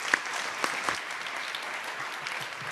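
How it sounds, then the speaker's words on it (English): An audience applauds warmly in the ECOSOC meeting chamber during a senior-level meeting, a steady, moderately distant wash of clapping hands with a few sharper individual claps. "another warm round of applause for all the co-chairs, outgoing, continuing, and the incoming"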